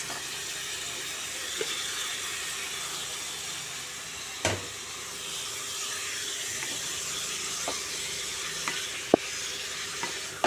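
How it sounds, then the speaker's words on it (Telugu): Bottle gourd and tomato curry sizzles steadily in a pan, with a constant frying hiss and occasional soft clicks of a spoon stirring, moderately loud and close, with no talking. "బాగా కలుపుకుని మూతపెట్టి మగ్గించుకుంది"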